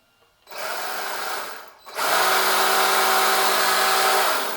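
An MJX C3 WRC RC car's electric motor whines up in a short burst, drops away for a moment, then revs again into a loud, sustained high-pitched buzz close by.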